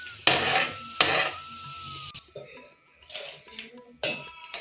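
A spoon stirs ingredients in a pan on a home stove, giving three sharp metallic clanks against the pan with quieter scraping and shuffling in between.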